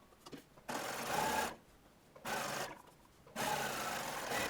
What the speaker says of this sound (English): Stitch all the darts in the same way.